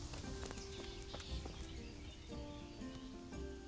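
Horse hooves clip-clopping in the medieval video game Kingdom Come: Deliverance, a quick irregular run of hoof beats on the ground with a soft rain-like hiss and some tonal game sounds behind.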